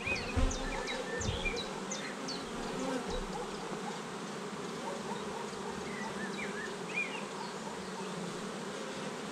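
Steady, dense buzzing of many honeybees close by on open hive frames, a continuous hum with scattered higher whines from individual bees throughout.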